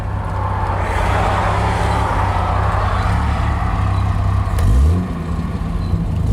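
A 1974 Triumph TR6 cruises in fifth gear. The engine hums steadily under road and wind noise from inside the car, with a brief low swell near the end and no talking.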